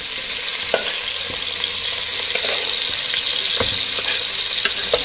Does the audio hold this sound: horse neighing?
no